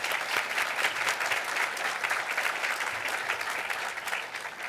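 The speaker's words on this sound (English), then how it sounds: "so let's give them both a round of applause." Sustained applause from an audience at a ceremony inducting new military spouse employment partners, a dense steady wash of clapping that holds even throughout and thins slightly at the end.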